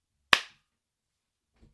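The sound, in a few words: sync clap for recording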